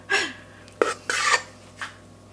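A worn spoon scrapes across a dish in four short, separate strokes, close and fairly loud, with quiet gaps between them.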